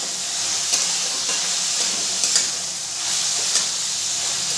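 Vegetables with chopped green chilies being stir-fried for chire pulao (flattened rice pulao), a loud, dense, continuous sizzle with a few faint scraping stirs along the way.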